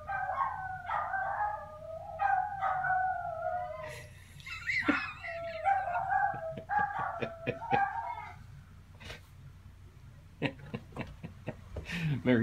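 Several dogs left alone at home bark, yip and howl in drawn-out wavering cries mixed with sharp barks, moderately close and continuing on and off throughout.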